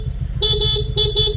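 A stock horn on a Honda Click V2 scooter honks in two short double bursts over a low idling engine, loud and close.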